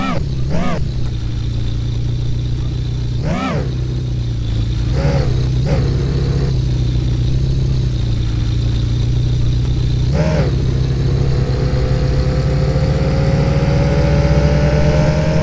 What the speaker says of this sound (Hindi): इंजन तो स्टार्ट हो।